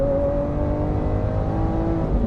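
A Lamborghini's V12 engine pulls under acceleration, a deep, steady mechanical drone with a rising whine, heard from inside the car.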